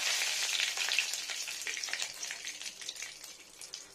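Nigella seeds and a bay leaf frying in hot oil for a ridge gourd dish, a steady bright sizzle with crackling pops throughout, close and fairly loud, with no talking.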